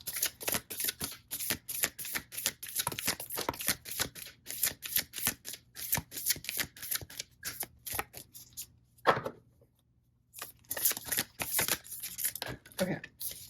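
A deck of oracle cards is shuffled by hand in quick, crisp riffling flicks and taps at close range, with one brief pause before the rapid shuffling resumes.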